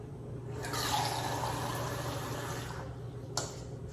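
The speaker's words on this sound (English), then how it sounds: "I'm going to fill my cup with water" Cold tap water runs into a cup for a pumpkin flower centerpiece, a steady close pouring rush lasting several seconds and then cutting off, followed by a brief clink near the end.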